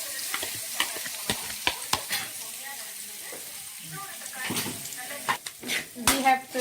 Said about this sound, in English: we have to saute the onion until it's brown